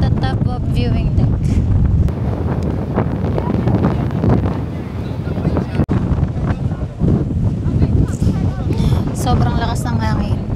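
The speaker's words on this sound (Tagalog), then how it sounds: "Sobrang lakas ng hangin." Strong wind roars steadily into the microphone at a hilltop viewing deck in Bohol, Philippines, loud and buffeting throughout, with a voice speaking faintly under the gusts.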